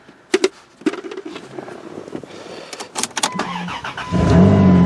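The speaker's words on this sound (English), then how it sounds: "Let's start her up and then drive her on." A rotted old vehicle with small electrical issues, about to be driven onto a trailer, is started: scattered clicks and knocks, then the engine catches and settles into a steady, close rumble.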